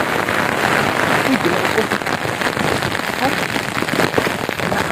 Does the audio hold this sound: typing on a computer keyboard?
no